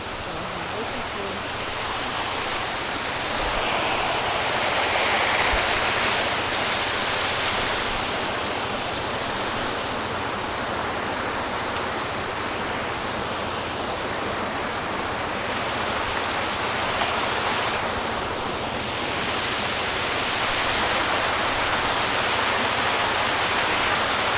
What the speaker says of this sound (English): Oh, isn't this nice how they got the waterfall goes under the pathway.